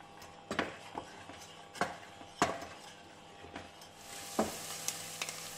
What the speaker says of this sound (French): on fait revenir carottes et oignons dans le beurre